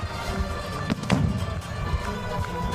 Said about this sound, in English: while the fireworks are going off